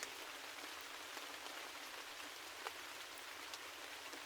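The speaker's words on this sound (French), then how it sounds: "vous pouvez entendre le doux murmure de la pluie tomber doucement à l'extérieur" Steady rain falls outside, a soft, even hiss of drops with occasional brighter individual patters, quiet and continuous with no voices.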